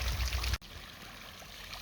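A garden pond fountain running on a weak pump, water trickling and streaming steadily. The flow cuts out for a split second, then the gentle, faint babble resumes.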